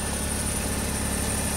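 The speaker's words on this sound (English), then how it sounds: "Motor sounds good." A 2007 Pontiac Solstice convertible's Ecotec four-cylinder engine with variable valve timing idles steadily, a smooth, even, low hum heard close up with no talking.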